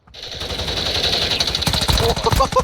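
A BAS-B battle rifle fires in Call of Duty Warzone Mobile: rapid, loud, close bursts of game gunfire over about two and a half seconds, with a faint voice underneath.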